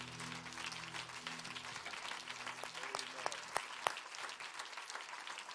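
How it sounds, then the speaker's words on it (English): A church congregation applauds steadily, a dense wash of clapping with a few sharper claps standing out near the end. "Would you clap your hands to the Lord one more time?"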